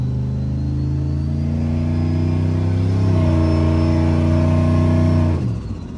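A Chevy pickup engine fitted with a hydroboost brake conversion from junkyard parts revs loud and close up to about 3,500 RPM, holds a steady droning roar, then climbs slightly before dropping off sharply near the end.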